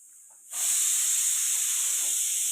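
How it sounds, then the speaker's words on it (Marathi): A pressure cooker whistle bursts into a loud, steady hiss of escaping steam after half a second of quiet and carries on unbroken, with no voices. "तर कुकरच्या जोरदार शिट्ट्या चालू आहे"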